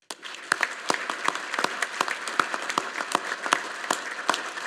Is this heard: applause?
yes